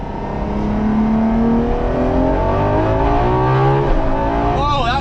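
A Ferrari LaFerrari, a nearly ten-year-old hypercar, accelerating at full throttle, its engine note climbing steadily in pitch, loud and close, with a brief shift near the end.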